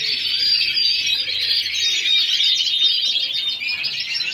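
Many birds in an aviary of males and females chirp and tweet continuously, a bright dense twittering that fills the space at steady volume with no talk.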